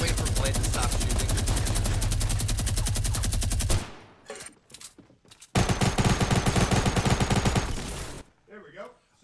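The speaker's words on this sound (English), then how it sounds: "I'm going to wait for Blade to stop shooting." Bursts of rapid automatic gunfire in a video game, one long sustained volley, a short pause with scattered sounds, then a second long volley before it cuts out, loud and close.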